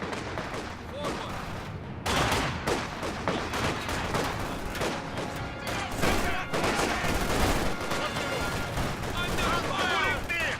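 Rapid gunfire and scattered shots from a Company of Heroes 2 battle crackle continuously at close range, layered with frequent loud bursts, while soldiers' voices call out over the combat.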